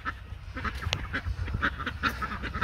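Ducks quack repeatedly in a garden beside a dwarf Brazilian banana plant, a run of nasal, honking calls at close to middle distance over light outdoor background noise.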